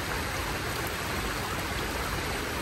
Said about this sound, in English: we spoke a little too soon under a little rain there. It seems to be coming back in.